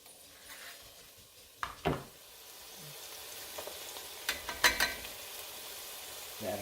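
Garlic frying in a pan for homemade cabbage soup gives a soft continuous sizzle, broken by a few sharp utensil knocks and scrapes against the pan.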